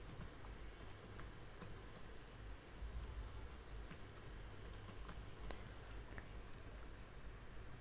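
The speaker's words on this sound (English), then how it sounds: "So let me type in the directory services restore mode" A password keyed in on a computer keyboard for a Windows Server 2025 Active Directory setup, quiet close clicks tapping in an uneven but steady rhythm throughout, with no voices.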